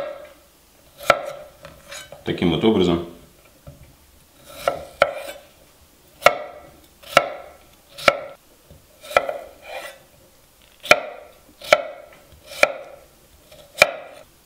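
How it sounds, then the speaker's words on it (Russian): A knife chops potatoes into coarse chunks for soup on a cutting board, a series of crisp, evenly spaced knocks close by, with a brief scrape and a few words spoken partway through. "Теперь нам нужно нарезать картофель. Картофель нарезаю не крупно."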